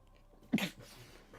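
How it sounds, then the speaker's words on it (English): One quick, sharp sneeze bursts out close to a microphone, then trails off into breathy quiet. "Try not to sneeze directly into the mic because that shit is loud."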